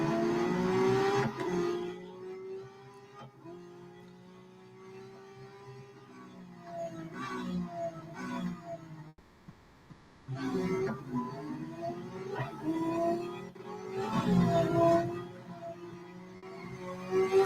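A Lamborghini's engine in the Real Racing 3 racing game revs steadily, its pitch climbing and falling through gear changes. It is fairly loud and continuous, with a brief dip in the middle before it picks back up.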